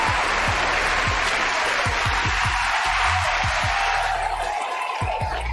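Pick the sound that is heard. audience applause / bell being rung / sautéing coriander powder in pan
audience applause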